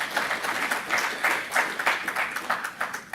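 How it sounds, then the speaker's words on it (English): Audience at a USVI–Africa MOU signing giving a delegation a round of applause, many hands clapping in a dense, moderately loud wave that swells and eases without talk. "Can we just give them a round of applause?"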